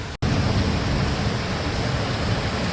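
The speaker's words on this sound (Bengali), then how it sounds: "কেমন বৃষ্টি পড়ছে" Heavy rain pours down continuously in a dense, loud, broadband roar after a brief cut at the start, with no voices over it.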